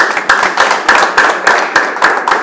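An audience claps in a hall during a speech, producing a run of sharp, evenly spaced claps that sound like a few pairs of hands rather than a full crowd, loud and close.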